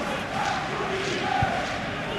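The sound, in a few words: unhappy stadium crowd in PES 2025 video game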